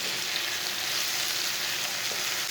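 Tomato and spices frying and being stirred in a pan for a ridge gourd curry, a steady close sizzle that stays level and continuous throughout with no voices.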